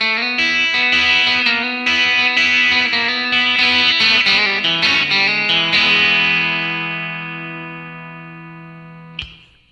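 Electric guitar lick from a gospel tune, You Just Can't Beat Jesus Christ, played with effects: a quick run of bright, distorted notes that settles into a long ringing sustain fading over several seconds, ending with a short pick scrape.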